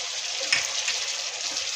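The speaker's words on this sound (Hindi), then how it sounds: "अब मैं इसको भूनने लगी हूँ।" Tomato masala with a chicken stock cube frying in a pan while being cooked down for biryani, a steady soft sizzle with a brief stir near the start, nothing else heard over it.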